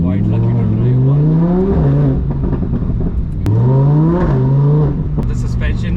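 Lamborghini Huracan supercar driven on the road, its engine and exhaust revving up and down in loud, rising sweeps close by, with a voice speaking over it.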